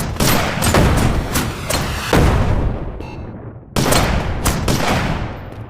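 Heavy gunfire in the VR shooting game Shotwood, with a series of loud booming shots and explosive blasts that fire in quick succession, each trailed by a short echoing decay.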